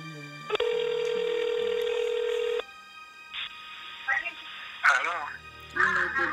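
A telephone call being placed: a steady dial tone, then a run of dialing beeps and a ringback tone, with a voice coming in at the end.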